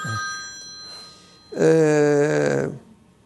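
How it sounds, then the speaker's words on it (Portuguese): A telephone rings loudly during a live Brazilian TV news program broadcast, a steady harmonic electronic ring lasting about a second after a brief fainter tone, with no talk over it. "Eu pensei ter desligado esse telefone."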